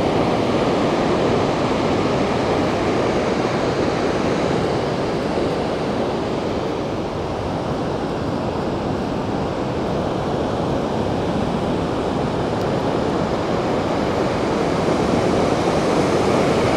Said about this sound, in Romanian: cascada aia mică